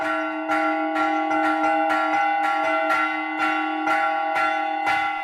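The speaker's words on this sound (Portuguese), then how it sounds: "Os sinos têm vários tamanhos e o badalo também vários pesos. Então eu tenho que controlar o peso para eles baterem juntos." Several bronze church bells of different sizes, with clappers of varying weights, strike together in a steady repeating rhythm, loud and close, their sustained tones ringing on between strokes with no talk.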